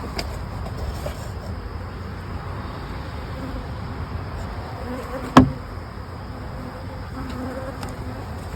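Honey bees hum in a dense, steady buzz around an open hive. The drone stays even throughout, broken once by a single sharp knock partway through.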